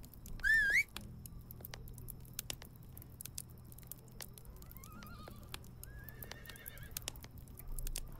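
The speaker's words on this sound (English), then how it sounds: "Oh, I should call my horse." A horse in the game Medieval Dynasty gives one short loud whinny right at the start, then only faint soft ambience, light clicks and distant bird-like calls follow, with no talking.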